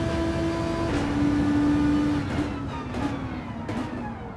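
A racing car with a built-in boost hums steadily in Gran Turismo 7, a sustained engine drone holding one pitch and then dipping slightly, fairly loud and continuous with no talk.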